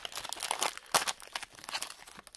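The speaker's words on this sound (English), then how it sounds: "packs are not the easiest to open without a pack of scissors" Crinkly foil wrapper of an NFL trading card pack being torn open and crumpled up close by hand, a few quick rips and rustles, fairly quiet and with no voices.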